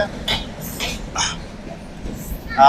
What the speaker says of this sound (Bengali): কমলাপুর থেকে রাজশাহী উদ্দেশ্যে ট্রেনটি ছেড়ে গেল